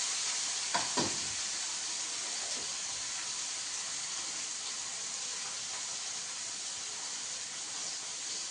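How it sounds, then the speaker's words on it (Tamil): Rock fish curry bubbles in a pot, giving a constant soft hiss and simmer with a couple of faint clinks near the start, and no voices. "மீன் போட்டு நல்லா குழம்பு கொதிக்கணும்."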